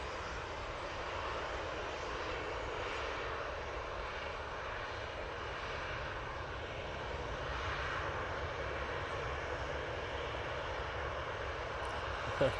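A Ryanair Boeing 737 MAX 8 jet departs Manchester Airport for Malta, a fairly faint, distant, steady engine roar continuing evenly throughout, with a small clunk at the very end.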